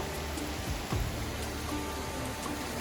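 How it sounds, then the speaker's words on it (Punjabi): Steady, dense rain pouring down with a constant broadband hiss, a loud unbroken wash without pauses. "ਮੀਂਹ ਪੈਣ ਦਾ ਯੋਰਾਂ ਸ਼ੋਰਾਂ ਨਾਲ"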